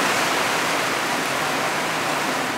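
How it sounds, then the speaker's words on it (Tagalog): Heavy rain pours down in a continuous, dense broadband hiss, loud and steady throughout with no other sounds standing out. "Sa pagbuhos ng ulan"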